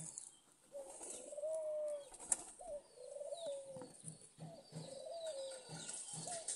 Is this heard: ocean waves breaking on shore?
no